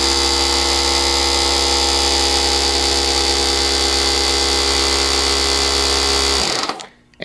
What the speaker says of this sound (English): if I want to use the air compressor, I just turn the switch on. It's going to be loud, so please bear with the noise